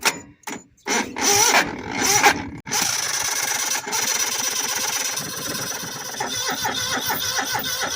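A small engine on a Simplicity tractor sputters with choppy starts and stops, then catches and runs steadily, close and fairly loud, with a high whine riding over the running.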